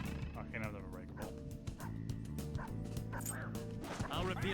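A Mummy dog enemy in Persona 5 Royal barks and yips in a string of short video-game dog cries over busy game music.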